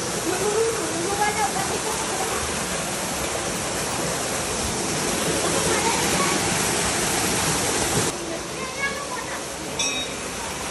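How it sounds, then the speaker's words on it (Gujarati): A mountain waterfall of glacier meltwater near Mussoorie in Uttarakhand roars as a dense, steady rush close by, with a few brief faint voices mixed into the continuous spray. "આ પહાડમાંથી પાણી આવે છે"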